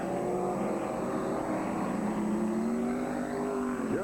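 Race cars roaring around the Tri City Speedway oval, a continuous loud engine drone with shifting whining tones as the cars pass, filling the whole stretch.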